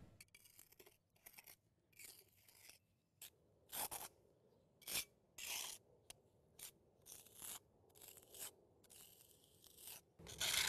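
A margin trowel works Sakrete Top and Bond patching compound into a concrete crack, producing quiet, repeated short scraping strokes with brief pauses between them, close up and alone.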